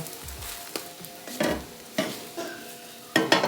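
Keto pancakes fry in a pan and get flipped, with a constant low sizzle broken by several close spatula scrapes and taps, and no talk.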